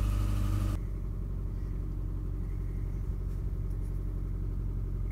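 Car engine running at a steady idle, a constant low rumbling hum close to the microphone, slightly louder for the first moment and then even, with no talking.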